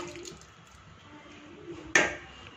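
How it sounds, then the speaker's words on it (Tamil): Cooked lentils are poured into a simmering chayote masala curry, making one short, wet plop after a near-silent stretch. "இப்போ இந்த பருப்பை இதில் ஊற்றிடலாம்."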